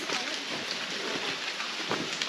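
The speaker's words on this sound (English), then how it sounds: "The waterfalls." Steady, dense rushing of falling water, loud and continuous with no pauses, like a waterfall close by, in a side canyon at Aravaipa.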